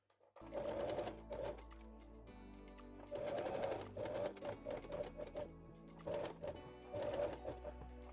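A sewing machine stitches lace onto cotton jersey along the leg openings of panties, running in fast, rattling bursts separated by short pauses, close and clear with no talking.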